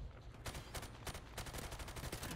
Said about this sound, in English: Look at this recoil. Like, it's ridiculous how easy the recoil in Call of Duty is.